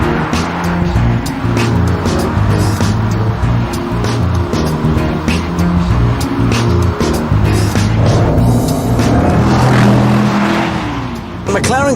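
A Mercedes SLR McLaren on the move, its engine roaring loud and close for the whole stretch, with gear changes, throttle swells and some tire noise, while someone talks over it.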